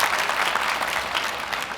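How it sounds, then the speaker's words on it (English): Audience applause at a university law school graduate commencement ceremony, a dense, steady roar of many hands clapping in a large hall, sustained and fairly loud with no speech. "you can clap."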